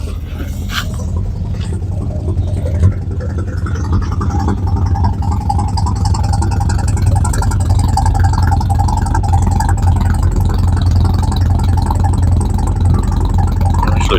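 A 1952 Chevy engine idles steadily after a tune-up, a loud, continuous low rumble close by that runs evenly throughout with no audible miss.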